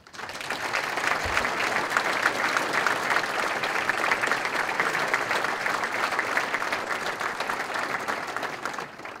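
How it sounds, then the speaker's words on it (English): A steady, full round of applause from a large crowd for the winners and finalists at a county awards event holds at an even level for about nine seconds before cutting off. "I want to make sure that we give one more round of applause for all of our winners and all the"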